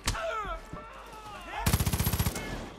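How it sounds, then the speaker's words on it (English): Sustained burst of machine gun fire in Far Cry 5, a rapid even train of about a dozen loud, close shots near the end, preceded by a stretch of voices and game noise. "we're getting shot in the back"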